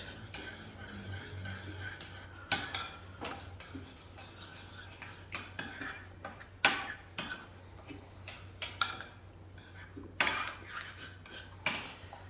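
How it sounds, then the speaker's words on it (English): A spoon scrapes and taps around a bowl while oregano and salt seasoning get mixed, irregular clinks and scrapes, some sharper, scattered over a quiet low hum with no talking. "And I will mix it."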